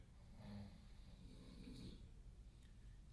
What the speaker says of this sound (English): Let the snoring be used for you by you to maintain your awareness and attention.